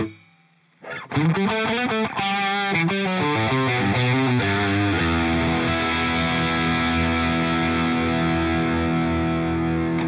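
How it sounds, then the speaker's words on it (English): Heavily distorted electric guitar through AmpliTube 5 software strums a run of chords, then holds a ringing chord that washes out with loud reverb tail. "And then you go to this, reverb, let's turn it on."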